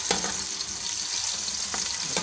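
Onions fry in half a cup of oil in a cooking pot, a close, continuous sizzle with a few sharp crackles and stirring scrapes, and no one talking.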